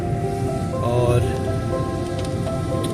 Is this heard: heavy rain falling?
yes